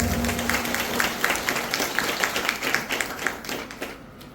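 An audience at a senior trainers' conference claps to welcome guests, a steady patter of many hands with rhythmic bursts running throughout, heard from within the hall.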